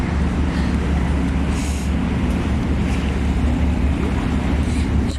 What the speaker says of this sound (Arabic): شوفوا البحر كيحماق.